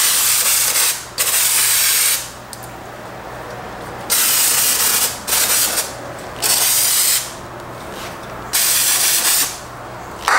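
Pneumatic impact tool or air spray hissing in repeated bursts of about one to two seconds while working on a Honda Foreman 450 ATV brake drum, loud and close with quiet gaps between bursts.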